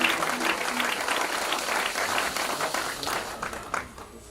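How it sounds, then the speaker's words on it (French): A church congregation applauds loudly and steadily, a dense wash of clapping hands filling the space from start to finish, with the crowd's noise briefly dipping near the end. "On acclame très fort le Seigneur."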